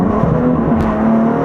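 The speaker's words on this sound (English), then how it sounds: "Let's just give this a little blip down here." A 2018 BMW M3 CS engine blipped on a high-speed bowl track, loud and close, a sustained throaty drone with a brief rise in revs partway through and no talking.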